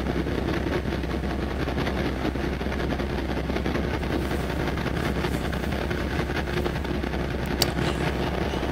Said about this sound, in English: this has got to be an Empire train. I can hear the diesel.